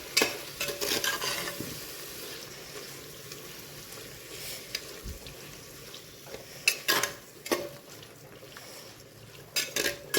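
A pot of chicken biryani mixture is stirred over the heat, a soft sizzle underneath intermittent scraping and clattering bursts of a ladle against the metal, fairly quiet and close.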